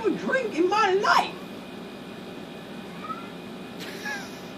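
A cat meows in a rising, wavering burst near the start, followed by a faint short mew and a brief higher cry later, with people talking nearby.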